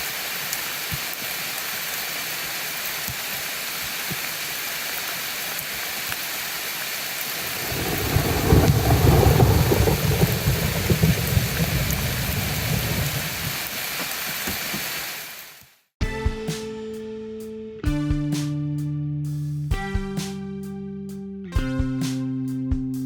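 Heavy rain hisses steadily outdoors during a storm and swells into a louder, rumbling surge midway, like thunder, before cutting off and giving way to music.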